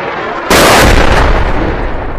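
A sudden, massive blast from a barrel bomb dropped by a helicopter on Salma, Latakia, hits after a brief quiet moment and rolls on as a loud, rumbling roar that slowly fades.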